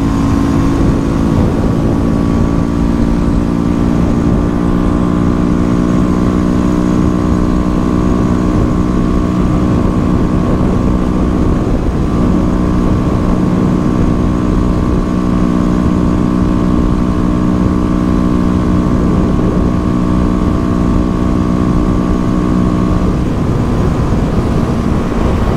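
A Honda CB 300F motorcycle runs during a wheelie, giving a loud, continuous, steady engine drone with strong humming harmonics that holds nearly constant for the whole stretch.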